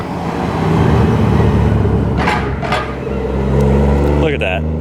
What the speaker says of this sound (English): here comes a chaser. I'll film that chaser when it pulls in